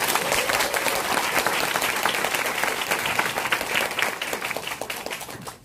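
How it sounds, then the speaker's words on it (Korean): An audience at a business presentation applauds with dense, steady clapping that holds for several seconds and tapers slightly at the end, with no talk over it. "다시 한번 저희에게 크나큰 비전을 안내해 주신 서진수 사장님께 큰 박수 부탁드립니다"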